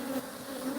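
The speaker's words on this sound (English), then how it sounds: "All of these bees you flying around are collateral." Bees buzzing around a backyard hive, a steady faint drone with a sustained hum tone, continuous and fairly distant.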